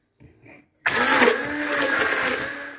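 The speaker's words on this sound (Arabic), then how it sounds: "غادي نطرب هاد البيض مزيان" An electric mixer starts up after a brief faint sound and whirs steadily and loudly as it beats eggs for a cake, with no talking.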